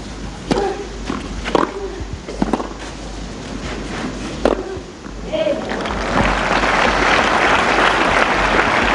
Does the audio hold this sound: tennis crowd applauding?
yes